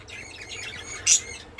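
Budgerigars at a breeding farm giving light chirps and twitters, ending in one sharp, louder squawk near the end, moderately close with faint background noise.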